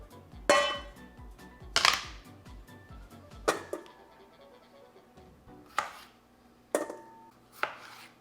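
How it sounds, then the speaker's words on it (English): A knife chops through mini potatoes on a cutting board, sharp close thuds spaced a second or so apart, with a quick run of small taps early on and quiet pauses between later cuts. "Now we need to chop them up and put them in a bowl."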